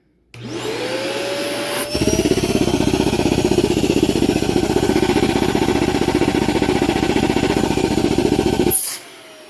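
A Mosquito Carbon Lite 6 quart vacuum unit switches on and runs for a suction test, a loud steady motor whine with a pulsing drone, close by, then shuts off.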